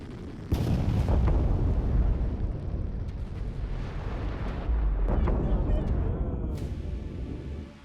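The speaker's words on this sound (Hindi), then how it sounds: "जमीन पर टकराते इससे जोरदार धमाका हुआ।" A missile falls back to the ground shortly after launch and explodes with a sudden loud blast, followed by a long rolling, crackling roar and a second surge before it fades.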